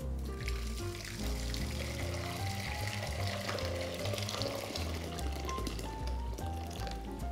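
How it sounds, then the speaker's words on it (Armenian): Freshly boiled water pours into a pot in a steady, splashing stream, close by and moderately loud. "Կացայի մեջ լցնում ենք հենց նոր եռացած ջուր,"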